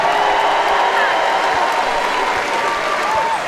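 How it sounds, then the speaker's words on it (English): A strongman competition crowd applauds Team USA with loud, sustained clapping and scattered cheers and whoops throughout. "Let's start with a round of applause for Team USA."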